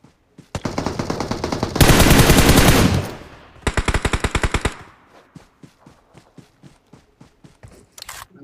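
Automatic gunfire in PUBG, a video game, with bursts of rapid shots, a dense sustained volley, another sharp burst, then scattered single shots trailing off, loud and close.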